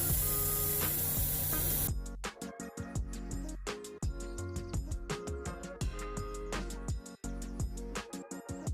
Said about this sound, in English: Okay, now we have our airbrush loaded with the first layer, which is going to be our white. So we're going to go ahead and get started spraying that on.